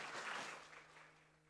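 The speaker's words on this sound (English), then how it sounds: "give applause to Pak Chong" Applause from a conference audience after a speaker's talk on education reform, a brief faint patter of clapping that fades out within about a second and a half.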